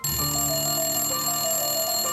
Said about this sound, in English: there's literally almost a phone ringing